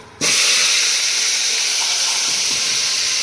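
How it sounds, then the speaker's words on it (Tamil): Cut brinjal dropped into a hot pan in a Tamil kitchen for a brinjal dish, with a sudden onset of loud, steady hissing sizzle that holds unbroken for about three seconds. "இதுக்கப்புறம் டேரெக்டாக வெட்டி வச்ச கத்திரிக்காயை அப்படியே உள்ளே போட்டுற வேண்டி தான்."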